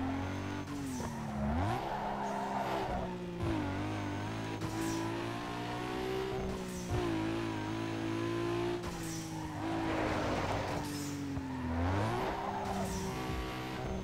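Video game Skyline car drifting on mud in Need for Speed Underground 2, a steady engine drone with repeated revving swells and bursts of tire squeal and skidding in waves, loud and continuous.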